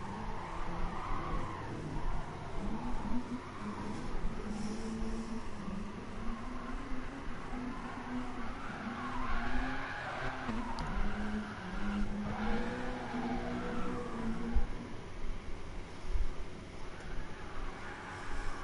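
Cars drifting in the racing game GT Sport during a drift competition round: a continuous engine drone with wavering tire squeal rising and falling throughout, fairly faint and steady, with no talking.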